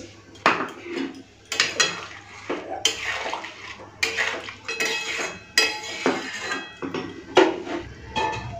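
A metal lid clatters onto a cooking pan, with a series of sharp, close clinks and knocks of cookware spaced through the stretch, fairly quiet overall.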